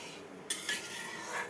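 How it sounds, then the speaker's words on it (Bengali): Rice pudding (payesh) with milk being stirred in a pot, a single soft scrape of a utensil against the pot followed by faint, brief swishing, quiet and close. "এরপর হালকা করে নাড়িয়ে নেব।"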